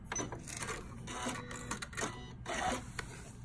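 A sewing machine running in short bursts as it top stitches along the teeth of a zipper on a quilted pouch, with a rapid mechanical whir and clatter close up and no talking.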